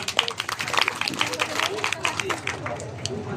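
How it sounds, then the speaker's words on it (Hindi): Applause from an audience at a district-level livestock fair and animal exhibition in Godda, a dense patter of many hands clapping at moderate distance, with crowd babble mixed in. "जोरदार तालियां हो जाए।"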